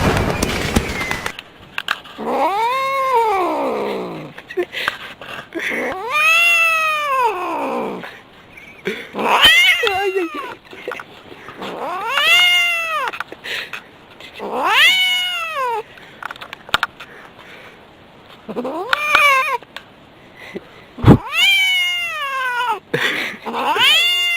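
A cat caterwauls in long, rising and falling wails, repeated again and again with short pauses, loud and close, with no other sounds.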